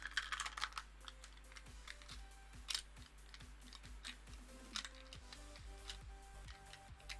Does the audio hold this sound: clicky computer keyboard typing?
yes